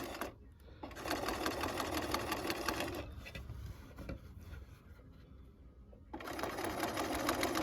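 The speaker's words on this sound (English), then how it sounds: "So I'm just going to kind of hold it there and just straight stitch along there." Sewing machine straight-stitching quilt binding, a steady fast mechanical whirr running close and continuous, briefly easing off twice before resuming, with no talk.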